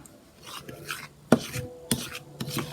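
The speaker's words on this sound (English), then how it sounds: "Now we take the spice mix and add it to the flour and basically combine it round" A spice mix being stirred and rubbed into flour in a bowl for seasoning chicken, soft gritty scraping with a few sharper taps against the bowl, close and quiet.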